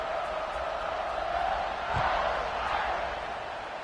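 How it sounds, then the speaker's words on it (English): Stadium crowd at a football game buzzing after a score, a steady broad roar with a brief thump near the middle, filling the whole stretch at moderate loudness. "this crowd is buzzing after that last score"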